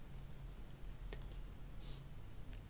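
A few sharp mouse clicks while saving a product page in Shopify, quiet and close against a low steady hum, with a brief soft rustle in between.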